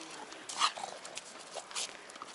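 A small pug at night in the streets of Kaliningrad gives a few soft, short yips and whimpering barks, faint and alone with no voices.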